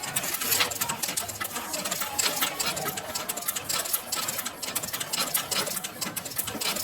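Pedal-operated sewing machine stitching through paper during tailoring practice, a dense, steady rapid clatter running continuously and close throughout.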